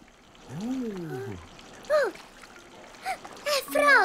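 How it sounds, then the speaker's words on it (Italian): Cartoon water splash, a bright splashing sound amid whistly, tonal cartoon effects, with children's voices talking around it. "L'acqua ha fatto splash."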